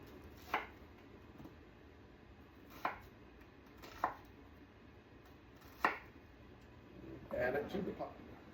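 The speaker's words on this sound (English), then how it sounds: "I just don't do anything fancy, just chop them up." A knife chopping ingredients on a board while raccoon is being cooked, five sharp separate chops spaced a second or two apart, followed by a brief scrape, fairly quiet and close.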